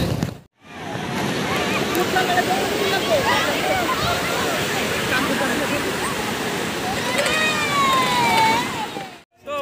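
Sea waves roll onto the beach at Puri at night in a constant loud surf roar, with crowd voices from a busy night fair mixed underneath.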